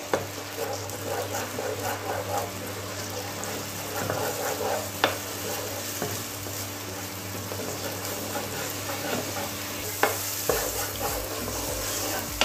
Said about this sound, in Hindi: हम इसे भी डाल देंगे इसके अंदर अच्छी तरह हम देसी घी में इसे भून लेंगे